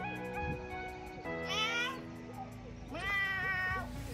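A cat meows twice, clear and close, with a short gap between the two calls over a quiet background.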